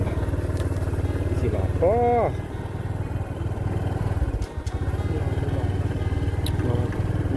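A motorcycle ridden through a hill-tribe village in Laos, its engine a steady mid-pitched drone with a rumbling low end, under someone talking throughout.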